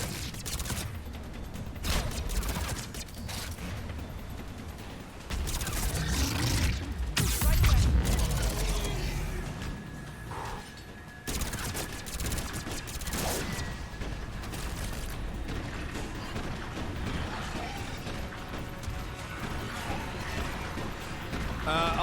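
Sustained gunfire from a Mass Effect 3 firefight, dense bursts of shots and mechanical clatter running continuously at steady loudness, with game effects layered in and voices talking over it.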